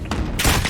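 Burst of gunfire in Call of Duty Modern Warfare during an online multiplayer match, a short loud volley of rapid shots crackling over the game's background noise.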